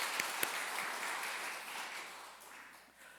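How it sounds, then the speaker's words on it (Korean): A church congregation gives a round of applause during a Sunday service, a soft, distant wash of clapping that holds steady and then tapers off, with no voices over it. "하나님께 영광의 박수 올려드립니다"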